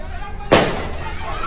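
A single sharp bang bursts out over a low background murmur, followed by a brief fading rumble.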